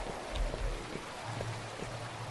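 Rain falls in the horror video game Onideki as a steady, dense hiss, with scattered drips and soft patters close by.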